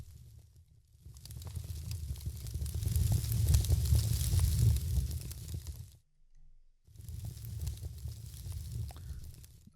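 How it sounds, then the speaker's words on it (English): Fire sound effect playing in Unreal Engine, a continuous crackling, sizzling roar with dense pops, swelling louder, cutting out briefly near the end, then resuming. "Now we can hear the fire."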